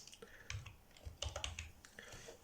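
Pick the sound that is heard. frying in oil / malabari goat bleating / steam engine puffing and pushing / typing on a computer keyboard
typing on a computer keyboard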